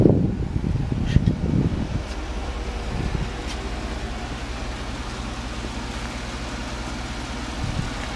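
A 2009 Chevrolet Tahoe with a 5.3 LMG V8 and 115K miles runs at idle: a steady low hum drones on after a few brief knocks and rustles at the start, with wind noise and no talking.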